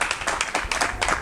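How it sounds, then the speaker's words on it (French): An audience at a Christian youth Sunday school gathering breaks into a brief, dense burst of steady clapping that sounds close and fairly loud. "On applaudit."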